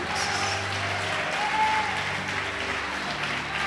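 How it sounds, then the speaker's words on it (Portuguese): Church congregation applauding during a sermon, a steady, even clapping wash from many hands, moderately loud and sustained, with a faint musical tone and voices in the background. "Pode aplaudir"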